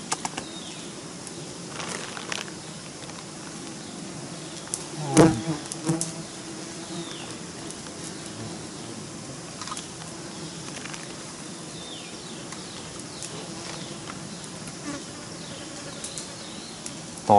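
Bees around a large wild honeycomb on a high cliff edge, a dense steady buzzing swarm with individual insects zipping past close by, a brief louder rustle midway.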